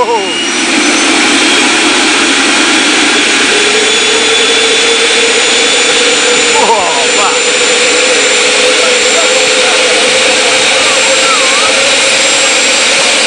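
A gas turbine jet engine with a centrifugal compressor runs steadily and very loud at close range, a dense roaring whine that holds throughout with a brief shift partway through.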